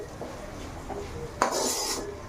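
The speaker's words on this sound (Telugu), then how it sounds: "అలానే ఇవన్నీ బాగా మిక్స్ చేసేసుకోవాలి." Chilli powder and garam masala are mixed in a pan with a utensil, making soft scraping and rubbing strokes followed by a louder metallic scrape near the end.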